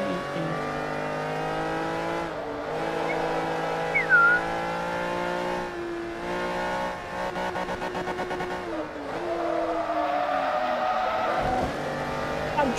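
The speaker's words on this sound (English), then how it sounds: "I'm drifting" A car drifting and skidding in Forza Motorsport 3, with a steady loud engine drone, shifting revs and long tyre squeals running throughout, no voices.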